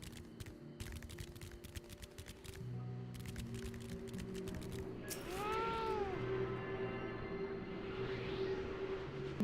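A single drawn-out cat meow in a video game rises and falls midway through, amid sharp rapid clicks and a steady background hum.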